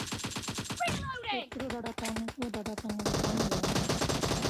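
Gunfire in a mobile battle-royale game, PUBG or Free Fire: rapid automatic bursts in quick rhythmic succession, mixed with tonal game effects and voice-like sounds, loud and close.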